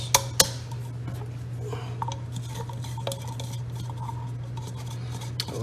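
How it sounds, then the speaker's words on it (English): A small rubber scraper works tzatziki sauce around a bowl, giving soft intermittent scrapes with a few light clicks and taps of utensils, all under a steady low hum. "I like these little rubber scrapers, they work good."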